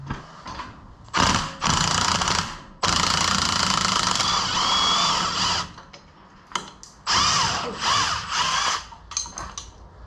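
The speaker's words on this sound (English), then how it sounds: "I am removing the bottom bolt on the shock here so that we can get this brake mount off" Power tool, likely an impact driver or drill, working the bottom bolt off a shock on a Jeep during a Teraflex suspension lift, sounding in loud repeated bursts of whirring and ratcheting with short pauses between them.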